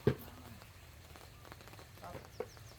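Rain falls on a rice field in light, scattered patters under a faint steady hiss, broken by a couple of sharp close knocks.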